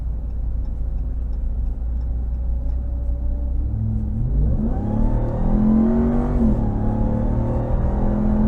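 A 2022 Dodge Ram 1500 TRX pickup engine idles with a low rumble, then revs up and accelerates, its pitch climbing steadily before easing back, close by and loud.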